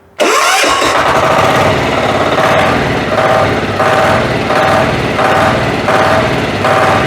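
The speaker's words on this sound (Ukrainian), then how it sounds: "І, шановні, мотор Січ з двигуном Вейма." A Motor Sich walk-behind tractor fitted with a Weima engine fires up and settles into a loud, steady, throbbing run close by, the single-cylinder chug continuing without pause and no voices over it.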